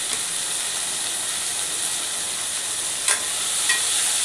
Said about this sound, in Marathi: कांदा लाल झाला आहे, आता त्यात टोमॅटो टाकूया।